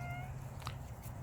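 A cat lets out one short, close meow partway through, heard over a low indoor hum with no talking.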